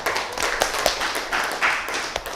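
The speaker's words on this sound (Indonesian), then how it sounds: "Tepuk tangan untuk Nabila." A burst of scattered hand clapping from a small group in a classroom, uneven and steady for a couple of seconds, with light room noise underneath.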